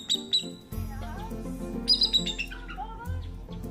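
Captive birds chirp and squawk close by, sharp repeated calls and whistles over a steady low hum, with a voice briefly heard beneath them.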